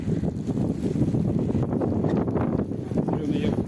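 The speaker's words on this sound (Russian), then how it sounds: "И снег, и дождь, и ветер." Wind gusts roar steadily across the microphone outdoors during fishing in snow and rain, a dense, continuous rumble, with a voice speaking faintly beneath it.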